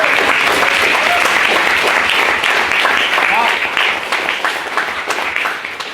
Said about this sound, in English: So I think they deserve another round of applause.